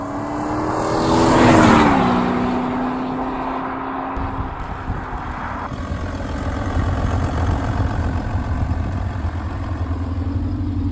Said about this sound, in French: ce n'est qu'un moteur diesel, un V6 3 litres TDI, 347 chevaux les amis